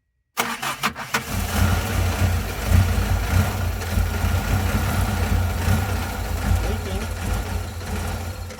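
A 1985 Conquest car engine with many vacuum leaks cranks and catches, then settles into a steady, slightly uneven idle with a low rumble that continues throughout.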